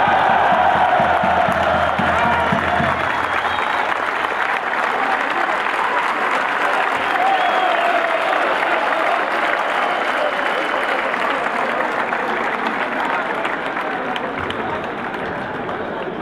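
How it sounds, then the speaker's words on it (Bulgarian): A football stadium crowd at a Botev Plovdiv player presentation applauds a player, a dense, sustained wash of clapping with some cheering, loud and continuous throughout. "Номер 9, много аплодисменти за Вандер Сакраменто Виейра."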